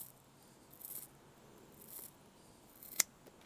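Scissors trimming excess material while fitting a Dobinson snorkel on a 4th-gen Toyota 4Runner, a few faint snips with one sharper cut near the end, close and quiet, no talking.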